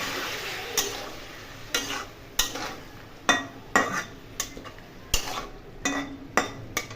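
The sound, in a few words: stirring boiled atta dish with added water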